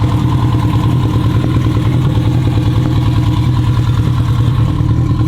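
A tuned turbocharged Honda Civic engine with a Stage 2 cam idles steadily and close, its deep lumpy pulse holding a constant loud rhythm with no revving.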